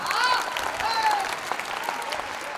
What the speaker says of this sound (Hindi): अब दोनों हाथ उठाकर ताली से माँ का अभिनंदन तो करिए